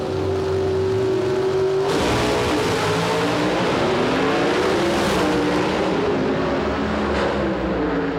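Oldsmobile and Dodge drag race cars run flat out down a quarter-mile strip. Loud, sustained engine roar with rising revs and a sharp shift in pitch, close and continuous with no pause.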